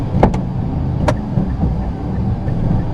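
A car engine at about 1,000 RPM pulls away in first gear, giving a steady close low rumble with a few brief clicks over it.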